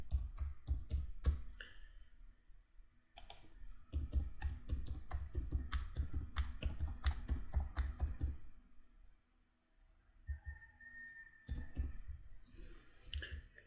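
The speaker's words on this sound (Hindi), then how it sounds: "हम यहाँ कुछ नंबर्स एंटर कर लेते हैं" Numbers typed into an Excel spreadsheet on a computer keyboard, close, crisp clicking keystrokes in quick bursts with short pauses between runs, fairly quiet and alone.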